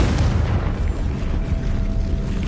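A Confringo fire spell blast in Hogwarts Legacy, a dense, loud booming explosion with a heavy low rumble that holds steadily for a couple of seconds without any talk.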